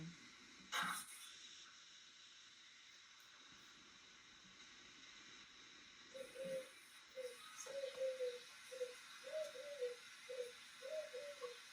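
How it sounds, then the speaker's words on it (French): Outdoor birds, likely a pigeon or dove, give soft repeated coos in a steady rhythm during the second half. The calls are faint and distant over a quiet hiss, with a brief knock near the start. "il y a les oiseaux qui chantent"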